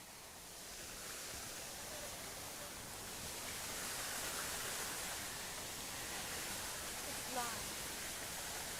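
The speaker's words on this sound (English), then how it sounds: "This is a pretty big waterfall." A large garden waterfall in a rock-lined creek fed by 3-inch pipe gives a steady, broad rushing hiss of falling water, constant and fairly soft throughout with no break.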